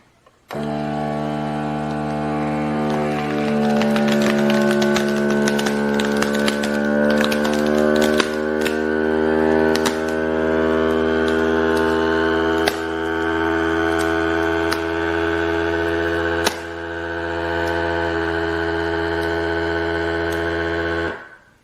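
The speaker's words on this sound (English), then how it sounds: "now we're going to actually press vacuum seal on this side" A Bunsen V12 Deluxe food vacuum sealer draws air from a bag, giving a loud, continuous motor hum with strong harmonic tones and occasional clicks and shifts, running alone for about twenty seconds before stopping abruptly.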